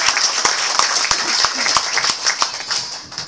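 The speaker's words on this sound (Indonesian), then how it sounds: "Tepuk tangan bagi Allah." A church congregation claps in a steady, rhythmic beat, loud and close, with voices and cheering mixed in throughout.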